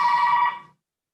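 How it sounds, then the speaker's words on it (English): A telephone bell rings during a village council meeting, one bright ringing burst that fades out quickly, heard without talk over it. "sorry about the ringing in the background"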